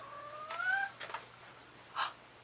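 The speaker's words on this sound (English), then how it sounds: "We have a cat visitor." A visiting cat meows indoors, giving a rising drawn-out meow followed by two shorter calls, fairly clear and close against quiet background hum.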